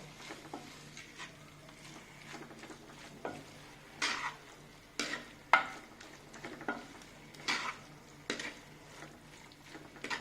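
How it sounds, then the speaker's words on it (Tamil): Tomato and ginger-garlic paste fry for chicken manchurian in a pan. Soft sizzling sits under intermittent scraping strokes of a spatula against the pan, quiet and close, with no voices. "தக்காளிக்கு அடுத்து தான் இஞ்சி பூண்டு பேஸ்ட் போடணும்"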